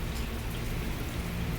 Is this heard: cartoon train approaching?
no